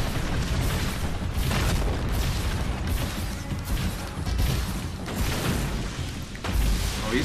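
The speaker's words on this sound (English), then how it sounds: "he's got foam grenades." Foam grenades going off in the side-scrolling action video game Shadow Complex, a dense, continuous run of booming blasts and crashes that stays loud throughout, with no talking.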